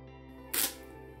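A single camera shutter fires once while shooting a LEGO street scene, a brief crisp click close up over a quiet, steady background hum.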